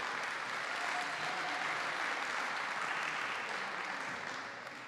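Steady audience applause at a community center re-opening, honoring the council chair, sustained at an even level for several seconds and easing slightly at the end.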